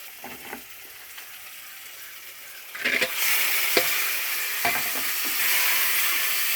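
Food sautéing in a pan: a soft sizzle that swells louder partway through, with a few sharp stirring clicks and scrapes over a steady hiss of hot oil.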